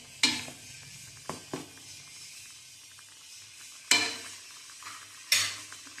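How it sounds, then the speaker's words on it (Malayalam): A spoon stirring paneer butter masala in a pan, with a few sharp scraping clinks against the metal over a quiet low simmer, spaced irregularly and fairly close. "എന്നിട്ട് നമുക്കൊന്ന് നന്നായിട്ട് ഇളക്കി കൊടുക്കാം."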